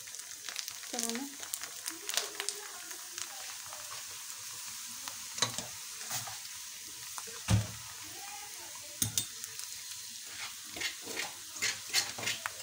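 Onions sizzle and fry in a pan for a home-cooked mixed vegetable dish, with a spoon scraping and stirring now and then and a brief voice speaking over the steady crackle.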